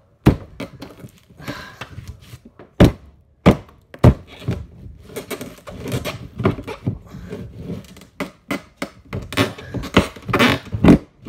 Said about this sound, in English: you can literally take them out with the bolt cutters